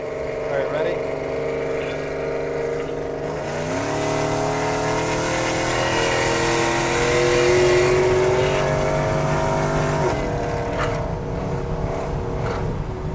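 Supercharged Chevrolet Silverado pickup truck engine revving hard as it accelerates, with a clear shift around the middle and the roar climbing again, loud and close throughout.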